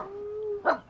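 A dog lets out a thin, sustained howl-like whine that ends in a short, louder yelp, heard fairly close in a quiet outdoor setting.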